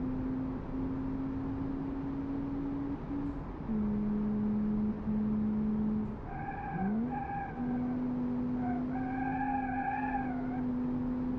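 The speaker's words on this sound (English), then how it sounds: "as you can see, it drifts really nicely" A Mark 1 Vauxhall Vivaro van with a roughly 275-horsepower engine drifting, its engine droning steadily while tires squeal in long wavering tones that rise and bend, loud and sustained throughout.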